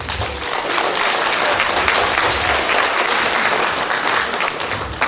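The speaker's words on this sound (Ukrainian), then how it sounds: "Зараз ще раз підтримуємо їх бурхливими оплесками." Loud, sustained audience applause fills a hall during a Valentine's Day event at Zolochiv college, steady and dense throughout with no talk over it.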